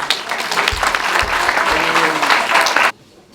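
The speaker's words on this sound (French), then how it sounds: "je veux vraiment que vous vous applaudissiez" Audience at a round-table event in Paris applauding, a dense sustained wash of clapping with voices mixed in, stopping abruptly near the end.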